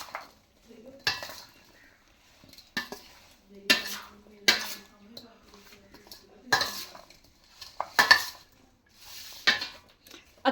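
A spoon mixing fruit chaat with chaat masala in a bowl, giving intermittent clinks and scrapes against the dish in irregular bursts with quiet gaps between them.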